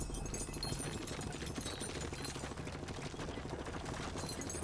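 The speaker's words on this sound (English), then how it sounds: "there's a gun up there that's going to be able to deal with all the problems" An automated gun turret in the video game Lumencraft fires rapid continuous bursts, a dense rattling barrage of gunfire that runs steadily through the whole stretch alongside game effects.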